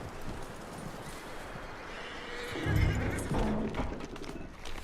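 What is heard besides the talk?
horse sounds in Red Dead Redemption 2 video game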